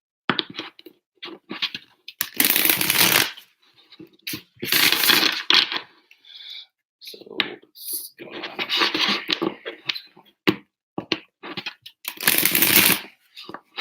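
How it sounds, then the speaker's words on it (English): Angel cards are shuffled by hand in soft, papery bursts that repeat at irregular intervals, close and fairly quiet, with occasional talk between them. "So I think I nervously just shuffle the cards."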